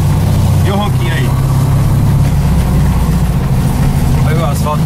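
A VW Beetle engine rumbles steadily and loud from nearby, a deep continuous drone with a voice speaking briefly over it.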